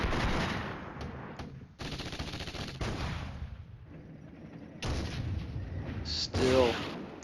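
Gunfire crackles through a firefight in the Flashpoint Campaigns: Red Storm wargame, loud bursts of shots and volleys broken by short quiet gaps, one brief whistling tone near the end.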